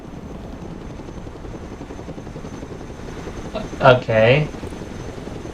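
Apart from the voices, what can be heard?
cargo helicopter flying in video game Broken Arrow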